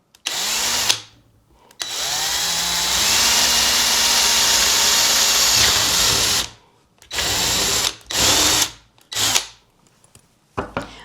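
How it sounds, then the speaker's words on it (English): Power drill boring a hole through a plastic cup lid, a loud, steady whine that slows in pitch under load, then several short bursts separated by silence. "And we're just gonna drill a hole in the top of this lid."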